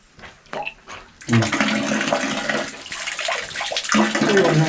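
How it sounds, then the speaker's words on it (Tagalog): Water pours steadily from a faucet along a hiking route, a continuous splashing rush after a quiet start, with voices speaking briefly beforehand. "Gripo."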